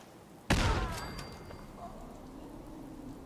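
A single loud gunshot blast from gunner enemies in Fallout 4, sharp and close with a long decaying echo afterward and no talk.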